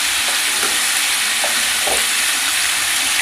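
Spinach chicken sizzles steadily in a pan with a few soft scrapes as it is stirred and fried, the hiss continuous and fairly loud throughout.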